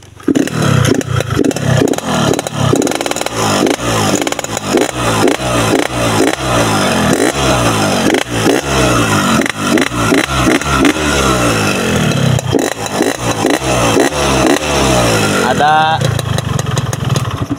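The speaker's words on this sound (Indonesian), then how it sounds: "itu tadi suara motor saya ya yang enggak menggunakan tutup filter" A Yamaha RX King two-stroke motorcycle runs with its air filter cover removed, giving a loud, close, rhythmic burbling idle and revving with rough, choppy pulses and some clatter, sustained throughout.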